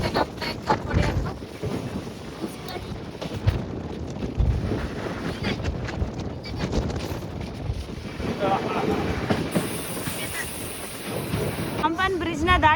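A passenger train rolls over the Pamban sea bridge toward Rameswaram, giving a steady loud rumble mixed with heavy wind buffeting across the open water.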